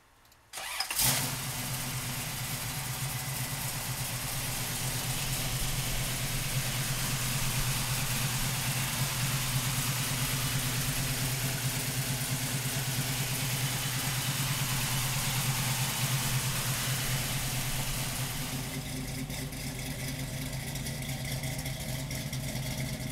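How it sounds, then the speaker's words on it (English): A 1973 Chevrolet Camaro with a 454 V8 cranks briefly, catches, and settles into a loud, steady low rumble at idle, close up, running continuously with a slight change near the end. "So come on up and we'll fire this 454 up."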